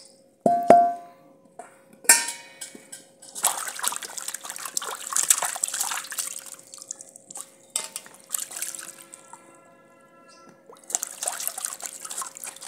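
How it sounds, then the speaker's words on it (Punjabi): Fresh shelled peas being washed under running water in a village kitchen, with a sharp splash at the start followed by steady trickling and gushing water that comes and goes in bursts, no voices. "ਇਹਨੂੰ ਆਪਾਂ ਧੋ ਲਾਂਗੇ, ਪਹਿਲਾਂ ਚੰਗੀ ਤਰ੍ਹਾਂ ਧੋ ਲਾਂਗੇ।"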